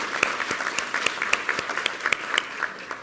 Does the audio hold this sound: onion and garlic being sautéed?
no